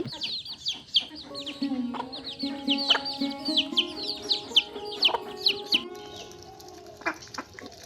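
Farmyard chickens clucking steadily while pecking at scattered feed in the morning, busy overlapping clucks and chirps close by with no talk.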